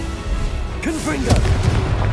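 A Confringo spell bursts in the Hogwarts Legacy video game, a short whistling cast followed by a sharp, loud explosive crack over continuous game ambience.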